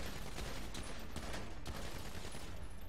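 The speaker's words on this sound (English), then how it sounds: "Oh, I'm shooting the Chroma." Dense gunfire in GTA V, an AP pistol and other weapons firing at a Chroma car, sustained rapid shots blending into a loud, continuous fusillade with no pauses and no talking.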